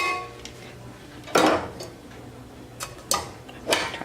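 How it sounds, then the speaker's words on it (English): Knife chopping cooked whole spinach leaves: a few sharp, separate knocks of the blade hitting the board, spaced irregularly and close by with no talk. "chop them up a little bit"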